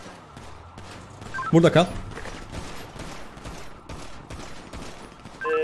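Rapid crackling bursts of submachine gun fire in a GTA roleplay shootout with police on a rooftop after a jewelry store robbery, repeating steadily beneath urgent Turkish talk.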